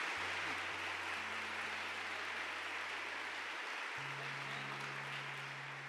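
A church congregation applauds after a Catholic Mass Gospel reading, a faint, distant wash of steady clapping with low electrical hum lines running underneath and no speech over it.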